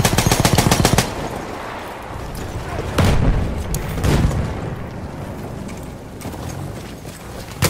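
Bursts of machine gun fire from a World War I shooter game, Battlefield 1: a rapid staccato volley at the start, then heavier booming shots and scattered gunfire under faint battlefield noise.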